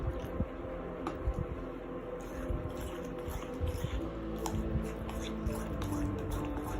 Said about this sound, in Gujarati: હજી લગભગ 2 ટેબલસ્પૂન જેટલું આપણે પાણી ઉમેરી લઈશું.